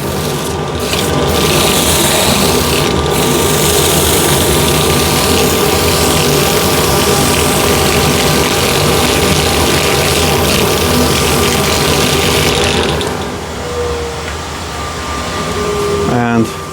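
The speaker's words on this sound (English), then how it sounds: "Inertia sander" An inertia sander spins against a wooden bowl on a lathe, a loud steady whirring rub that runs throughout, then eases off near the end as the tone shifts.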